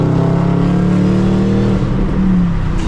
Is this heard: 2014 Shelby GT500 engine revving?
yes